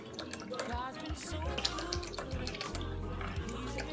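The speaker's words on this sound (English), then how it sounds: "Mango nectar. So we're going to pour it." Mango nectar is poured into a baking dish beside seasoned chicken, giving a steady liquid splashing with small drips while a person talks over it.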